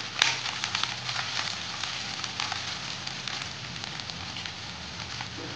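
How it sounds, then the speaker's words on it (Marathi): Turmeric is sautéed in hot oil while making kunjara bhaji, giving a steady close sizzle and crackle with a brief clatter at the start and no talk. "ती देखील आपण तेलावरती छान परतून घेऊया।"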